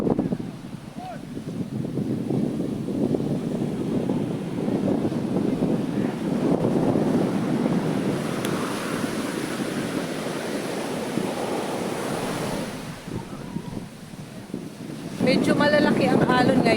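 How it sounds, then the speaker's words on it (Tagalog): Big surf rolling onto a beach in strong wind, a steady roaring wash of waves with gusts buffeting the microphone throughout, rising briefly louder near the end. "Medyo malalaki ang alon ngayon."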